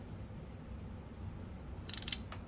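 A ratchet wrench fitted with a 5/16 socket loosens a bolt on a 1955 Buick Special. A short burst of quick, close clicks comes near the end over a quiet, low background hum.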